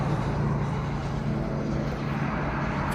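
A steady, droning jet engine hum from an airliner taxiing out for a Guam departure, holding at a constant level throughout without any speech.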